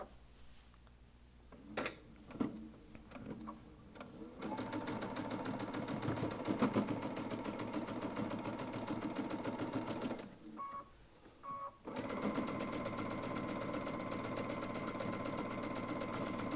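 A Baby Lock Altair sewing machine stitching fabric through a gathering foot at stitch length 5 and tension 8, a steady close mechanical whir with a brief stop and restart midway and no talking.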